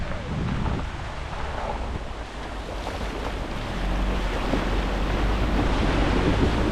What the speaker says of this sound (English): Let's cross the river again.